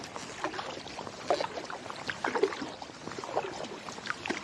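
A kayak paddle dips and pulls through a quiet winter river with slush on the surface. Close splashes and trickles come in an uneven rhythm, with drips between strokes and no other sound around.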